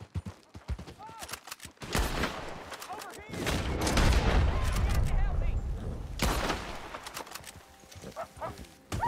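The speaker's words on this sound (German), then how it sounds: "Was ist denn für eine Knallerei?" Gunfire in the Western game Red Dead Redemption 2 crackles in sharp bursts and rapid volleys, with horse hooves and ambient noise between, and someone speaking German over it.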